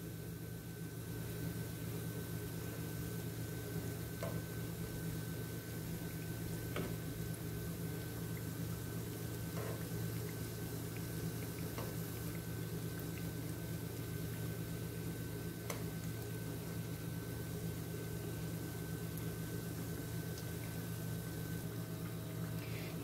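Steady, soft bubbling sizzle of jangiri batter frying in hot oil, a continuous low hiss with occasional faint pops, heard alone at a moderate distance.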